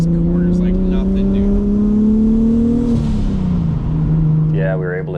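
An R32 Skyline GT-R with a big single turbo accelerates hard, heard from inside the cabin. The loud engine note climbs, drops at a gear change midway, then pulls again as an excited voice cries out near the end.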